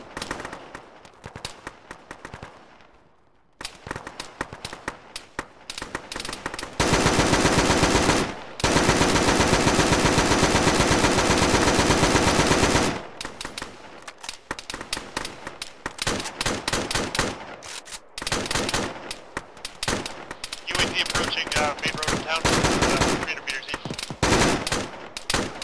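Automatic and single gunfire in the military shooter Arma during an infantry assault on a bunker, long sustained bursts alternating with scattered shots over about twenty-five seconds, loud and close with brief gaps.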